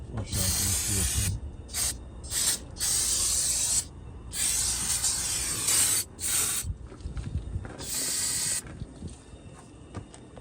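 Brake cleaner sprays onto engine parts of a BMW in bursts of sharp, loud hissing, several short and long blasts separated by brief pauses over about ten seconds.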